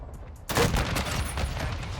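A Bryson 890 shotgun fires in Modern Warfare 2, one loud close blast breaking in after a quiet half second of background noise and spreading into a long, dense roar, with faint voice-like sound mixed underneath.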